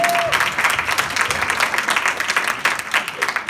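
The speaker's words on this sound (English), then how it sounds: "You've got to give them applause for that." Audience at an Enneagram children panel applauding, a dense burst of clapping from a crowd throughout, fairly loud and steady.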